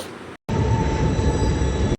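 A passenger train rumbles along loudly and steadily, with a dense low roar and a thin high squeal from the wheels. The sound cuts out briefly near the start, then runs on without voices.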